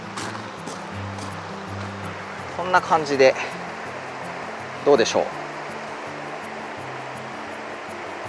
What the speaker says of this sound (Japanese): 川の音がさすごい大きめで